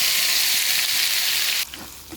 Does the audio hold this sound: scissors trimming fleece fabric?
no